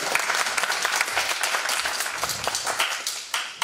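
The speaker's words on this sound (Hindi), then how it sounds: "चलें लाइबा बतूल के लिए भरपूर तालियां" An audience at a motivational talk applauds for the young speaker Laiba Batool: dense, steady clapping from a crowd, fairly close and sustained throughout, with no voices over it.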